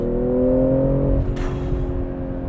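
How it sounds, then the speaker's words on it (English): A 2020 BMW M340i launching hard on launch control, its engine note rising in a strong climbing drone before a quick shift break and a continued pull, heard from inside the cabin with no talking. "So let's get launch control going here."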